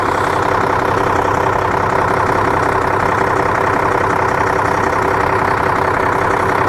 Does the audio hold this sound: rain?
no